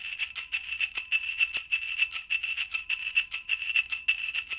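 A metal concave shaker holding BBs or shot is shaken in quick rhythmic strokes, each producing a bright, crisp rattling burst of pellets, close up and alone.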